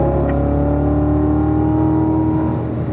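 A race car engine at a Spring Mountain track, loud and close, holding a steady high drone with harmonic whine as it accelerates, no talk.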